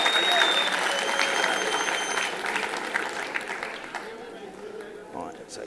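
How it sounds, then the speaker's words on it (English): A convention audience gives a round of applause after a chef's demonstration, a dense burst of clapping that is loud at first and gradually thins and fades. "Round of applause for Keith there."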